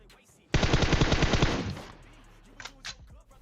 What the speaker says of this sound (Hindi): तो मैं थोड़ी सी गोलियां बर्बाद करता हूं